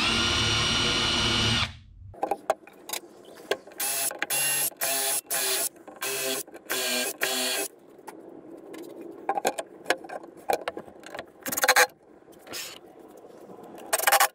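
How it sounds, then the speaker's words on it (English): A power drill whirs in short repeated bursts, starting and stopping as it bores holes in kitchen cabinet parts, with clicks and handling noises between runs. "And then I'm gonna drill it right after."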